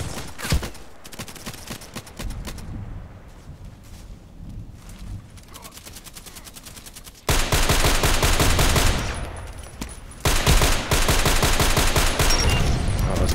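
DT SRS sniper rifle fire in the shooter game Contract Wars: single sharp shots early on, then dense bursts of rapid gunfire and loud battle noise in the second half.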